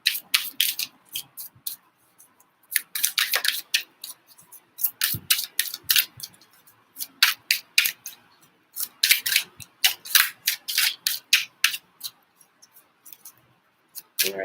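Tarot cards are shuffled, handled and drawn, making crisp, rapid snapping and flicking bursts in irregular clusters, close and fairly loud, with short silent gaps and no talk.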